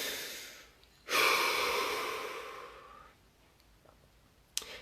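A single deep breath, one long airy inhale swelling and then tapering over about two seconds, fairly close and alone, followed by quiet and a faint click.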